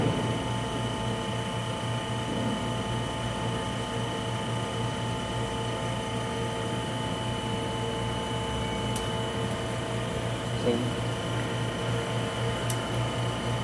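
A reactive ion etcher holding a 120 millitorr process pressure as its throttle valve regulates, giving a steady mechanical hum with a low drone and faint clicking, continuous and alone with no talk.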